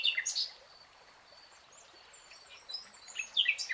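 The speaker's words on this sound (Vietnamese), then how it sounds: "Nơi đây trở thành điểm dừng chân lý tưởng của nhiều loài chim nước đặc trưng vùng Đồng Tháp 10" Water birds call in a cajuput forest in the Dong Thap Muoi wetlands, faint high chirps and tweets at the start and end over a quiet, soft background.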